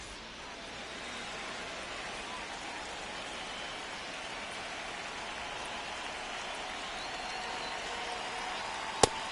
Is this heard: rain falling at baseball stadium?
yes